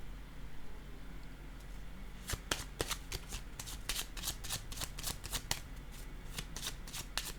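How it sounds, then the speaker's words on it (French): Tarot cards are shuffled and laid down on a deck in a run of crisp, rapid riffling snaps after a quiet start, close and fairly steady over a low background hum. "je vais déposer une carte sur éliminer"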